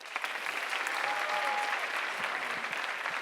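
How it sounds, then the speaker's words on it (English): A steady burst of applause from an audience for students performing songs at a school writers expo, filling the whole stretch with dense, even clapping. "let's give them a round of applause"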